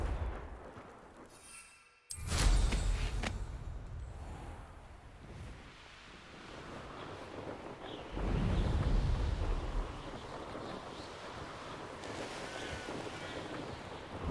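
A Confringo spell explodes in Hogwarts Legacy with a sudden loud blast followed by a rolling rumble, then a second deep boom swells and fades into steady ambient noise.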